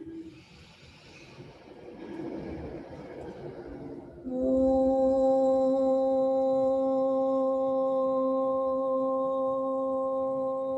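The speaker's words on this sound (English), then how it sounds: "We'll close with the sound of Om." After a breathy inhale, a sustained group chant of Om begins, a steady harmonious hum held for several seconds.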